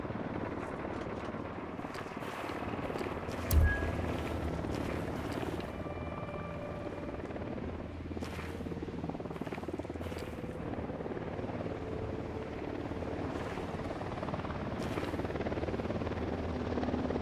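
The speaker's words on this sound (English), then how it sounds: "Helicopter" A helicopter in Ghost Recon Wildlands drones with a steady thumping rotor wash throughout, with scattered gunfire-like cracks and one heavier thud early on.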